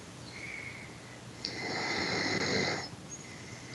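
Snoring with a high whistling tone, a faint breathy snore rising into a sustained shrill whistle for over a second, then fading, quiet and close.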